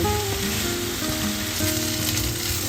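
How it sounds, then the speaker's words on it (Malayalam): Paneer fries in a pan with a steady, close hiss and sizzle that holds evenly throughout, with faint music tones in the background and no voices. "പനീർ അങ്ങനെ കിടന്ന് വേവുകയാണ്"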